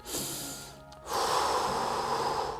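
Deep inhale during a child's strength exercise: a short sharp intake of breath, a brief pause, then a louder, longer breathy rush of air close to the mic.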